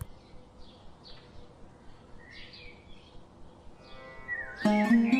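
Small bird chirps from an animated moral story about a poor woodcutter, several brief tweets spread over quiet background, then a louder musical burst near the end.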